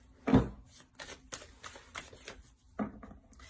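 Oracle cards are shuffled for a reading, with rapid riffling bursts, a short pause, then another riffle. The sound is close and soft, and no one talks.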